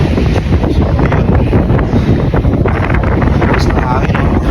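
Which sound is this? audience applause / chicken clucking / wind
wind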